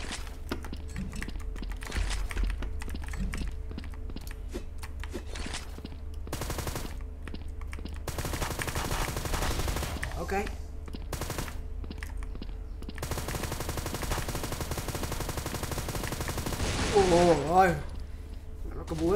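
Rapid bursts of automatic video game machine gun fire rattle in quick volleys, loud and close, with mechanical clicks and a person talking over the shooting at times.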